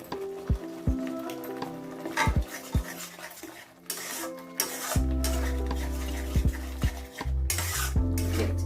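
A spoon scrapes and clatters around a pan of prawn curd curry sautéing over heat, with repeated metallic knocks over a steady sizzle that grows louder and more continuous toward the end.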